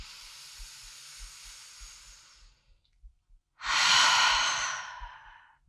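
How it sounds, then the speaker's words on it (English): Two deep breaths during a restorative core strength workout: a long, soft exhaled rush fading out, a short pause, then a louder, fuller breath that swells and tapers, close and alone with faint low thumps beneath. "And again, take a big breath."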